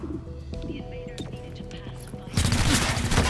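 Gunfire from a squad in the video game XCOM: Chimera Squad, shots firing from a raised position in a dense burst that grows louder and fuller near the end, over faint background game sounds.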